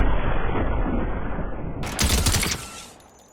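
Rapid, loud automatic gunfire from an SMG in Fortnite, a dense rattling burst that switches to a sharper, brighter stretch of shots before ending abruptly.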